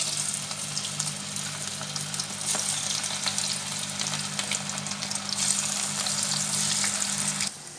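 Cauliflower pieces for gobi manchurian frying in hot oil, a close, continuous crackling sizzle with busy bubbling that keeps up throughout and cuts off sharply at the end, with no talking.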